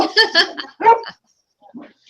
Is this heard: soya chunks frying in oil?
no